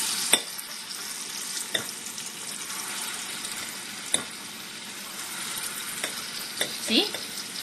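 Urad dal vada batter balls drop into hot oil for dahi vada, each landing as a sharp splash followed by a continuous bubbling fry, several drops spaced a second or two apart.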